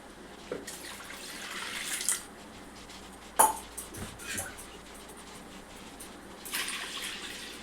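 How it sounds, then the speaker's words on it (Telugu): Water is poured into a pot of washed toor dal in a home kitchen, giving intermittent splashing and trickling with a few sharp knocks against the vessel, fairly faint overall. "ఇప్పుడు దీంట్లో మనం వాటర్ పోసుకోవాలి"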